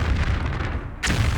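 A booming explosion in the video game Tomb Raider V, set in a New York level, starts loud and rumbling, dies away, then a second sharp burst hits about one second in.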